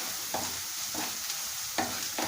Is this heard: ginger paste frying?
yes